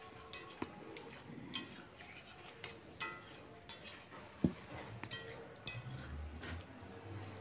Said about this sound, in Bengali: এই জলেই আমি ভালো করে মশলা আর মাংসকে কষিয়ে নেব